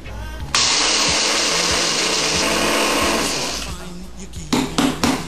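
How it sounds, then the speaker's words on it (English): An electric kitchen coffee grinder grinds coffee beans in a loud, steady whir lasting about four seconds, then tapers off and gives way to a few brief knocks near the end. "I know in my kitchen with my grinder, in order to achieve the perfect grind, is approximately 13 seconds."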